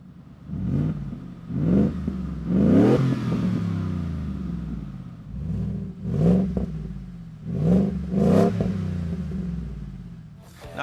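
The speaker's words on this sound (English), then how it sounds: "I went with the Magnaflow MF Series catback, which I gave a 3 out of 5 on my Wake the Neighbor scale, and here's what it sounds like." A Ford F150 fitted with a Magnaflow MF Series cat-back exhaust revs repeatedly, about seven sharp throttle blips rising and falling in pitch, each followed by a deep burbling settle, heard alone without talk.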